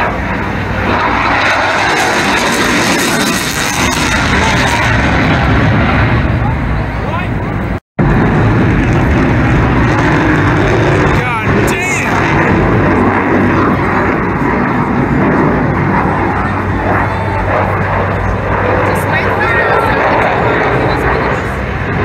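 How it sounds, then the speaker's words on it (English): Roaring engine of a Super Hornet jet flying at the EAA AirVenture airshow in Oshkosh, a loud, continuous rumble that fills the whole stretch with a brief dropout near the middle, while people talk among the crowd. "Super Hornet."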